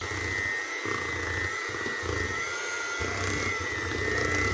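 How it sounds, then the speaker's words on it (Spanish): Electric hand mixer beating a butter and sugar mixture in a bowl, a steady whirring motor hum with a high tone, pulsing slightly as the beaters work around the edges, close and continuous with no talk. "siempre traten de batir bien los bordes para que todo se mezcle"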